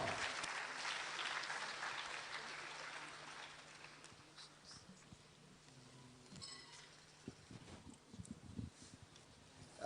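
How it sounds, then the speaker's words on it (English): Applause from a conference audience, loud and dense at first, then thinning into scattered claps that fade toward the end. "Give them a round of applause as they come up."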